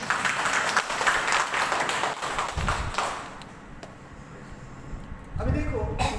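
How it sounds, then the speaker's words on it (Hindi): An audience at a health lecture breaks into loud applause in bursts, with a speaker's voice talking over and between the clapping. "उनके लिए जोरदार तालियां वापस"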